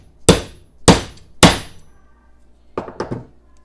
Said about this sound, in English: take this hardened driver and a hammer